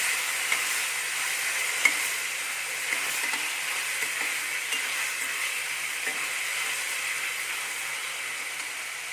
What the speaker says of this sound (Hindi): अब डाल देती हूँ मैं टमाटर और हरी मिर्च, और थोड़ा सा इनको भूनूंगी